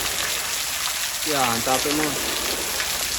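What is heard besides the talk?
steady rain falling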